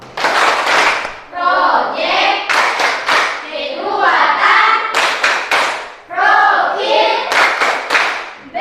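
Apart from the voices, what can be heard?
class clapping hands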